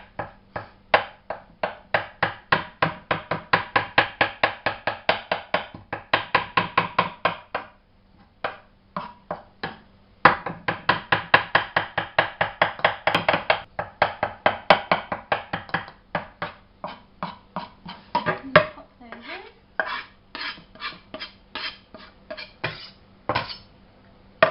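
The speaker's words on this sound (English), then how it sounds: "Using a large knife is always better for cutting herbs." A large knife chopping fresh herbs on a cutting board, rapid rhythmic bursts of sharp taps in quick runs with short pauses between, close and clear, no talking.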